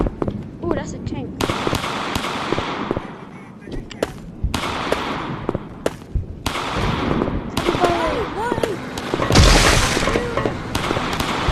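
A tank in the horror video game Big Scary lets out loud, crackling blasts and booming bursts in uneven bursts over several seconds, with voices reacting underneath.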